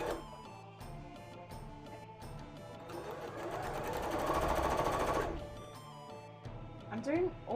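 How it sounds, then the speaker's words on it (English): Sewing machine stitching fabric for a Neeko cosplay costume from League of Legends, running in bursts of rapid mechanical chatter that swell louder in the middle, with background music or noise underneath. "I'm doing all of this stitching as well because I really want it to match the top"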